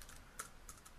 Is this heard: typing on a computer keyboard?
yes